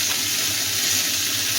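Snake gourd added to sautéed onions in a pan sizzles with a loud, dense, steady hiss, close and continuous for a brief moment.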